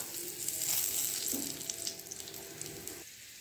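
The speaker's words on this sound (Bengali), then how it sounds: "এবার কড়াইয়ের মধ্যে দিয়ে দেবো শুকনো লঙ্কা, দিয়ে দেবো তেজপাতা" Dry red chillies and bay leaves hit hot oil in a kadai, giving a soft, steady sizzle with faint crackles and a brief stir partway through, close and fairly quiet.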